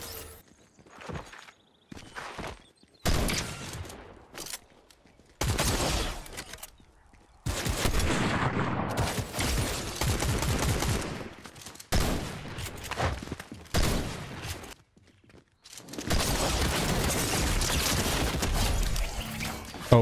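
Gunfire in the video game Fortnite crackles in loud, dense bursts separated by short silences, with rapid repeated shots and scattered footsteps and mechanical clicks between volleys.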